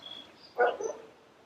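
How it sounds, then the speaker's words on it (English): A single sharp dog bark rings out at mid distance, followed by a short fainter trailing yelp, over quiet background hiss with no speech. "listen to that dog."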